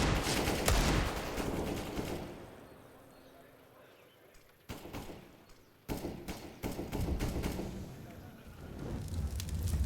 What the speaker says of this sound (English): Nico just crossing his fingers, closing his eyes, and firing into the smoke.